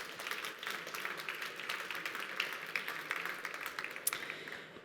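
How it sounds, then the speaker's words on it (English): A conference audience applauds the startups at a Sanofi innovation event in France, a moderately loud, continuous patter of many hands clapping with a few sharper individual claps standing out. "give the startups a round of applause"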